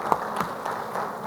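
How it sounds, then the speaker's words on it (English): Audience at an Indian construction-industry presentation on durable concrete, applauding a speaker; a short burst of scattered claps with a few louder hits, moderately close in a hall. "let's give a big round of applause to Mr."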